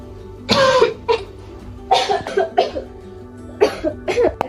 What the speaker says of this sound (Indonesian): Aku yang batuk tadi ma.